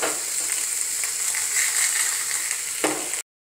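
Potatoes fry in a pan with a steady, close sizzle and crackle that carries evenly for about three seconds before cutting off abruptly.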